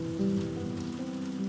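Steady rain falls around a horse barn at the stables, a soft, even patter throughout with no voices.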